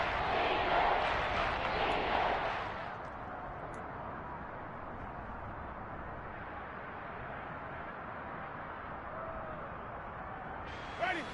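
In a Madden football video game, a stadium crowd roars loudly for a few seconds during a big play, then settles into a steady broad murmur under commentary.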